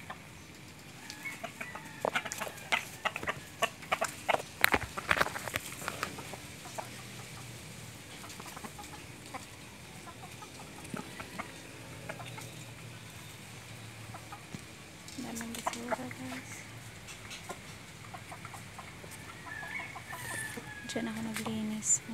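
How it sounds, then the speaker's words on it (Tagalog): Chickens in a yard cluck in scattered bursts, some close and loud, others fainter, with an occasional crow, while a person talks intermittently nearby. "Pakainin kong manok ko."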